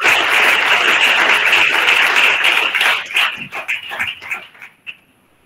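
Loud applause for a speaker at a Vivekananda youth event, dense clapping that holds steady for about three seconds, then breaks into scattered claps and dies away.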